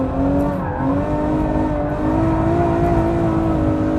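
A Ferrari F12berlinetta V12 powers hard through a right-hand corner, its engine note a loud, sustained harmonic drone that climbs gradually, heard close from inside the car with no talking.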